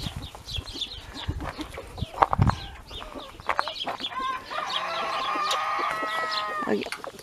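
Hens cluck and squawk busily nearby, with scattered clatter and a longer drawn-out cackle toward the end.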